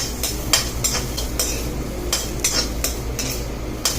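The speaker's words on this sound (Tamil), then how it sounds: "இப்போ இதை கடாயிலே இதில் இந்த தேங்காவை சும்மா லேசாக வதக்கிங்க ஃப்ரெண்ட்ஸ்" A spoon stirs grated coconut in a kadai with sharp, irregular scrapes and clinks against the metal. They stand out over a low, steady background hum, and there is little sizzle and no speech.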